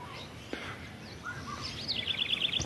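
Small birds chirping faintly outdoors in a rural area, scattered calls building into a quick repeated high trill near the end over a soft background hiss.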